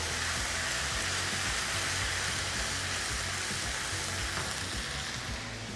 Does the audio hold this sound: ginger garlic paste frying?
yes